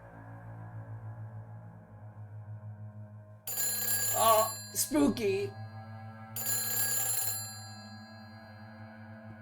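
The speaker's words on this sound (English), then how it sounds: "this phone's ringing on its own and it really shouldn't be ringing on its own" A phone rings in Silent Hill 4, with two bright, harmonic ring bursts over a steady low hum. A person speaks briefly between the rings.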